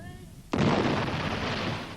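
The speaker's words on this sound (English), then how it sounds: "One particularly devastating technique was the car bomb." Car bomb explosion: a sudden loud blast after a moment of quieter sound, followed by a long rumbling roar that decays slowly.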